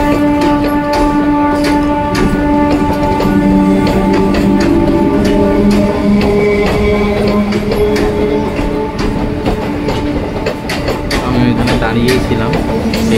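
A passing train on the line between Majerhat and Park Circus stations gives a loud, continuous rumble with sharp rhythmic clacks of wheels over rail joints throughout.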